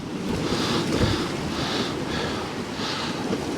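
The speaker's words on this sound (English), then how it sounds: "that wind is absolutely ripping" Strong storm wind roars across Poole Harbour during a storm while sea fishing, a loud continuous rush with surging gusts and surf-like buffeting on the microphone, no voices.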